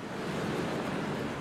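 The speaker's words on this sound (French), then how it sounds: "Et les vagues sont super." Surf waves break on an Algerian beach in a steady, continuous wash with some wind noise, loud and close, with no talking.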